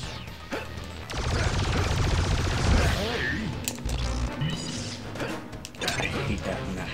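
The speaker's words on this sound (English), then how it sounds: "Yeah, the Gatling gun." Gatling gun firing in the Buzz Lightyear of Star Command video game, heard as a loud rattling stream of shots with crashes and mechanical clatter, mixed with game effects.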